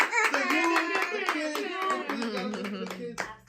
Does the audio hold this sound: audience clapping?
yes